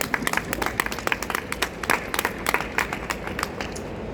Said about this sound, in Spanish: Un aplauso, por favor, para ti.